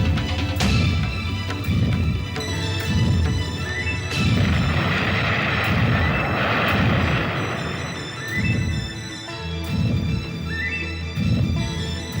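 Loud explosion effects rumble through a mythological battle scene set in Brahmaloka, a sustained barrage of booming blasts and crackling bursts layered with dramatic music, with no talking.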